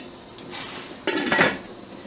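Glass jars of hot pepper jelly are set down into a water bath canning pot, two brief clunking knocks of glass against metal close by, with no talking.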